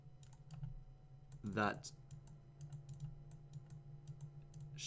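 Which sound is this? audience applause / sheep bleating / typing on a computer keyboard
typing on a computer keyboard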